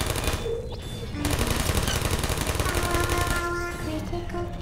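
Robotic turret gunfire in the Portal game, a continuous fast rattling stream of shots that runs loud and steady throughout with faint voices underneath.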